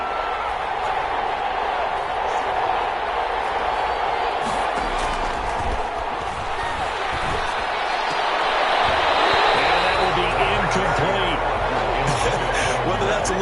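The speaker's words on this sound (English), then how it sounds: "The crowd getting into it as we come up on a big 3rd down" A crowd at an American football game keeps up a broad, distant roar that swells louder toward the end, while a commentator talks over it throughout.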